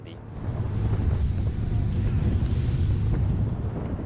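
A Selva D 900 Evolution motorboat planing at 2,100 RPM and about 11 knots, giving a loud, steady low engine and hull roar with rushing water and wind buffeting the microphone throughout, no talk.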